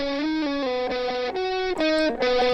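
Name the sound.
electric guitar with saturation plugin in FL Studio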